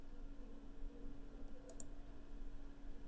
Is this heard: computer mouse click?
yes